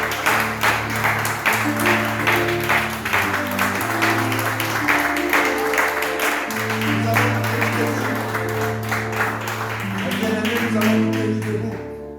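A church congregation applauds and cheers in acclaim, with steady sustained clapping that continues throughout, layered over tonal music and voices.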